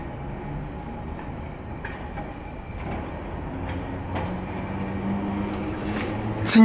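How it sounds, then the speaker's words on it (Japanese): A tram rumbles past in the Susukino entertainment district with clattering wheels and rhythmic clicks over rail joints, a steady mechanical drone that swells toward the end. "チンチン電車です。"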